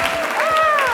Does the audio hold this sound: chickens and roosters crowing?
no